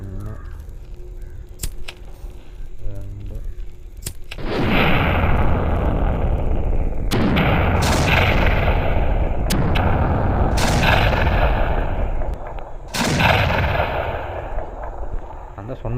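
Deepavali firecrackers set off one after another burst in sharp, heavy booms spaced a few seconds apart, each blast leaving a crackling, hissing tail, over ongoing outdoor noise with voices and crows cawing in the background.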